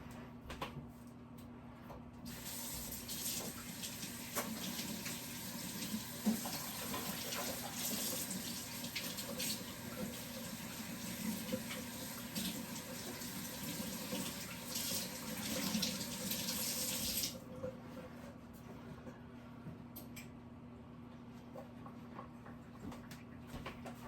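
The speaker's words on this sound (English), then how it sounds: "Now, let me rinse off my hands again" Hands rinsed under a running kitchen tap after working biscuit dough: a steady, close rush of water lasting about fifteen seconds over a low background hum, then the flow cuts off, with no talking.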